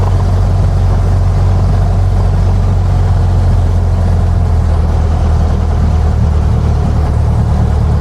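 A Cessna 172 piston engine at run-up gives a loud, continuous low drone with a deep, steady hum from inside the cockpit, holding an even pitch throughout.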